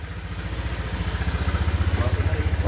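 Honda Click 150i scooter engine (2018 V1) revving after a repair, a close, throbbing pulse that grows louder and faster over a few seconds.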